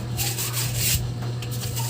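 Close, rhythmic rubbing of fine 180-grit sandpaper on an Asahi electric fan part, a soft scratchy rasp repeating in short strokes with a faint steady hum underneath.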